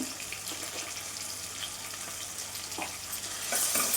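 Chilli powder and salt stirred into a snack frying in a pan of hot oil, with a steady close sizzle and scraping stir sounds throughout that swell slightly louder at the end; no voices.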